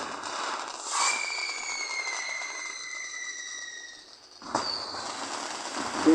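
Fireworks in the Firework Playground game: a sharp pop, then long whistling streaks that fade, followed by another burst of crackling explosions, moderately loud and with no talking.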